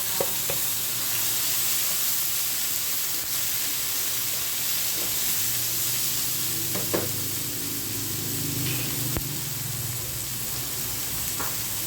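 Tomatoes hit a hot frying pan of oil for an ampalaya dish with a steady loud sizzle and hiss, plus occasional stirring clinks, close by and continuous.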